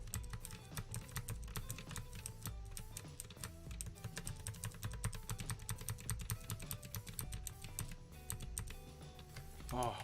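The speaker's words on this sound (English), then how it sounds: "Let me try to push this again with my arrow keys." Computer keyboard arrow keys tapped over and over in a steady, busy stream of crisp clicks for the whole stretch, close and distinct, without speech over them.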